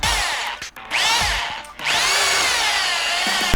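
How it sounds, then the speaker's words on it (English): Power drill boring out the centering hole in a factory U-bolt plate held in a vise, for a Ford F250 lift kit: loud, steady whine with two brief dips, then a sustained run to the end, no talking. "We're gonna bore out the centering hole to keep it centered on the Carli leaf springs."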